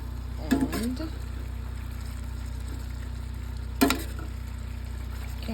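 Steak-umm sizzles steadily on a camp stove as a low continuous frying hiss, with a couple of brief louder bursts and faint voice sounds over it.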